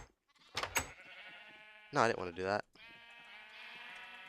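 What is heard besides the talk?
sheep bleating in a video game (Minecraft)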